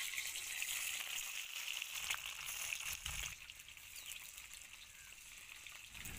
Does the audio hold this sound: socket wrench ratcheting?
no